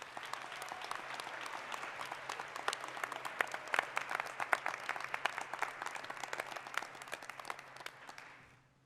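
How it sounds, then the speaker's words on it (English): Sustained round of applause from a college graduation audience, many hands clapping steadily at moderate distance, swelling in the middle and fading out at the end. "let's give them a round of applause."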